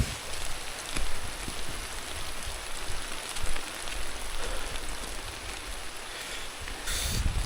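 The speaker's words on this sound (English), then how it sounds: "Hope the rain doesn't disturb it too much." Steady rain falls near cassava farms in rural Bua Province, Vanua Levu, Fiji: a dense, even hiss of drops pattering on leaves and surfaces, constant throughout with slight swells and no voices.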